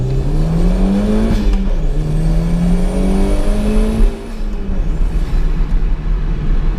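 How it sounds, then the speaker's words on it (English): A 1995 Toyota MR2 Rev 3 with T-tops accelerates, its engine note climbing steadily in pitch through a gear, loud and close, then dropping briefly at a shift before pulling again. "Well, that's the opportunity for a little bit of an acceleration."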